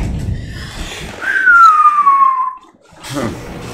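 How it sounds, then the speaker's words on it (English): A person gives a single descending whistle lasting about a second, loud and close, with breathy noise around it and a short pause before more breath sounds. "Why am I whistling in relief?"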